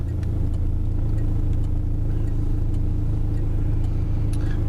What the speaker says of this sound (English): Good old Huntsville traffic.